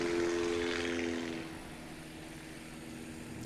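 Small STOL propeller airplane taking off at a STOL competition, engine drone loud and close at first, then easing and fading as the plane climbs away.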